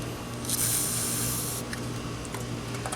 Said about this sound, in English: get you some WD-40, or sometimes I even use motor oil. Spray it on the threads